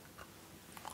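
A quick crunchy bite into a piece of Bayonne chocolate flavoured with Espelette pepper, a short close snap followed by a few faint chewing crunches in a quiet room.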